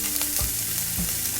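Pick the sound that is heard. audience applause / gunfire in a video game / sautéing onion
sautéing onion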